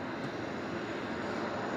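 General Electric jet engines on an airliner at Melbourne Airport produce a brief, steady, even roar at moderate distance, alone with no voices.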